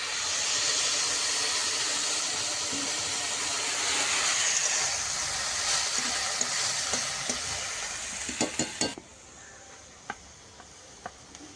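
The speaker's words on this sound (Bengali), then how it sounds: "কচুর ফুলটা একটু সাঁতলে নিয়েছি, আর নেওয়ার পরে এখন দিয়ে দেবো কিন্তু একটু জল সিদ্ধ হওয়ার জন্য।" Hot water goes into a pan of sautéed taro flowers with a loud, steady sizzling hiss that dies down abruptly, leaving faint ticks and bubbling.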